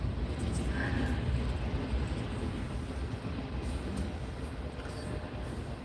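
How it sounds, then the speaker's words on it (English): A train passing near a house, heard as a steady, loud low rumble with broadband rolling noise that holds for several seconds and eases slightly toward the end. "So, the train is coming."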